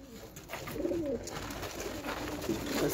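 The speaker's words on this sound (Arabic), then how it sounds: "هسه عندنا الحمام البيوض عندي شباب" Pigeons coo softly and repeatedly over a steady background hum, with no voices.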